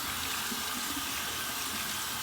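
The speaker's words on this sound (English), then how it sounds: "run under cold water and get some feedback here" Cold tap water runs steadily as a razor is rinsed under it, a constant close hiss of flowing water with no talking.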